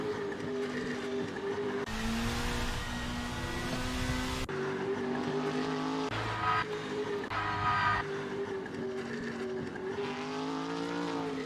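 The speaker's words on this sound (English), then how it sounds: "Safety car coming out pit lane now." A safety car pulls out of the pit lane in a Super Formula racing game at the Brazil round. Engines hum steadily at close range, with shifting pitch and bursts of louder engine noise.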